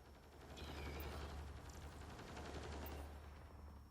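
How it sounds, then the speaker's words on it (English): Rapid gunfire from the video game Mass Effect Andromeda rattles in bursts at low volume, a sustained stream of shots with a steady low hum underneath and no talking. "I hear gunfire."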